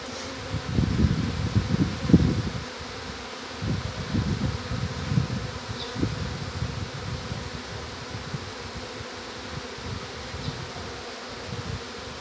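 A bee swarm, the first of 2021, buzzes in a dense, steady drone throughout, with a louder low-pitched surge of wingbeats in the opening seconds and no voices.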